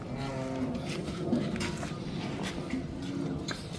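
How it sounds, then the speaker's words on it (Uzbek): Cattle on a farm with a fresh batch of newly arrived cows, including pregnant ones; low moo-like calls rise several times over steady barn noise, fairly close and continuous. "G'ildirak bo'lib qo'ygan jonivor ham sigirlarni qaranglar."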